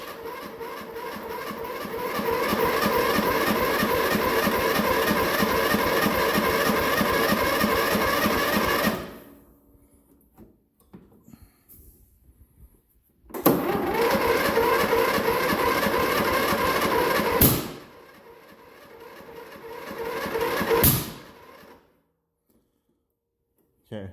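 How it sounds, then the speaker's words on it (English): A John Deere Sabre riding mower's engine, cold-started, runs roughly for several seconds, cuts out, then restarts, with sharp loud backfire pops breaking through near the end before it dies. "definitely don't like it backfiring, but so it's firing, so it's definitely going to need a tune-up."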